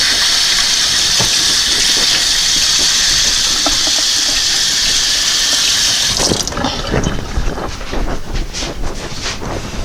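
Tap water runs while someone washes their hands in a kitchen, a steady close hiss and splash lasting about six seconds before the flow stops and a few soft knocks and drips follow.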